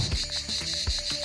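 Dense, continuous insect buzzing from a cicada emergence in St. Louis, a loud high-pitched drone with steady pulsing and faint thumps underneath, no voices.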